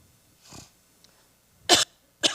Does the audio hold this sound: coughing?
yes